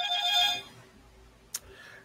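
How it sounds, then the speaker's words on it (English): Telephone ringing in a quiet indoor room, a short ringing burst in the first half second, fairly faint, followed by near silence and one brief click. "Hold on, I got a phone call."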